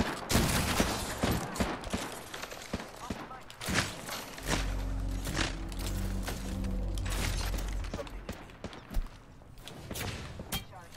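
Rapid bursts of automatic gunfire and sharp single shots in Apex Legends, dense volleys and a heavy low rumble mid-stretch, with players talking over the shooting.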